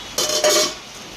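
A metal utensil clanks and scrapes against a pot as rice is stirred and fried for Bangladeshi polao, a short burst of two close, bright knocks followed by a fading rustle.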